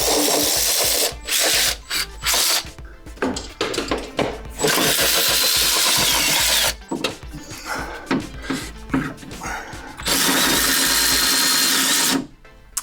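Power tools whirring in repeated loud bursts while manifolds come off a Porsche 914 engine, the buzzing runs broken by short gaps of quieter clanking.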